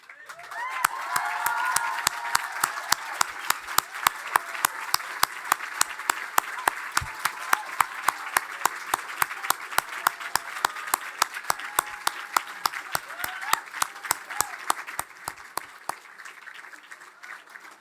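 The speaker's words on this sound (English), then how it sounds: "I'd like you all to give them a round of applause" A ceremony audience applauds students standing up at a college leavers' ceremony, a dense, steady wash of clapping lasting over a dozen seconds with a few sharper, closer claps standing out, then fading out at the end.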